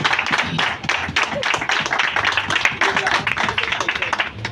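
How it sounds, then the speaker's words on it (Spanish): A church congregation applauding, sustained close clapping from many hands that keeps an even rhythm with a few voices mixed in. "Bríndale fuerte el aplauso al Señor"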